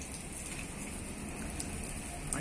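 Water sprays over potted orchids and plants while watering, a steady soft hiss of fine droplets pattering on leaves, constant and close, with no talk.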